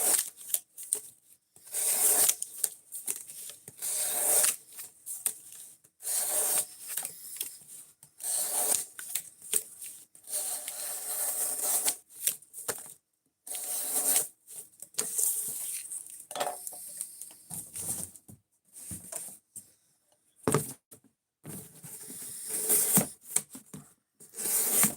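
A Spyderco Manix 2 knife in Maximet steel slices material over and over for an edge retention test, giving close, scratchy cutting and rubbing strokes in irregular bursts with short gaps, with no voices.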